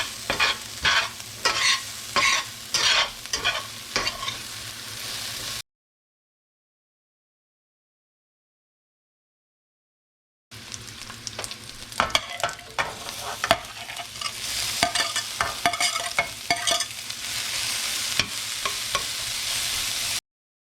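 Mushrooms, carrots and onions fry in a pot for a healthy spaghetti meat sauce, with a crisp sizzle and clattering stir strokes. The sound cuts out briefly, then returns as a denser, steady sizzle.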